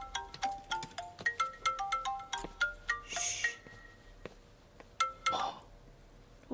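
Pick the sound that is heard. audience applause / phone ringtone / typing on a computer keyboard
phone ringtone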